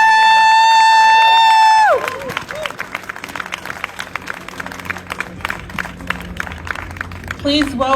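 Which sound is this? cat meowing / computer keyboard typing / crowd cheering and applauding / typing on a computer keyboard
crowd cheering and applauding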